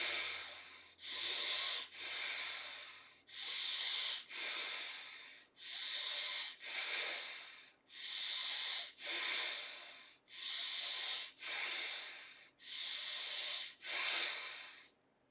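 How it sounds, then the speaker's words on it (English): Slow, deep belly breathing during meditation: about a dozen long, even breaths of airy inhales and exhales, close and clear with near silence between them. "Inhale little longer, breath into the belly, expanded, exhale from the belly"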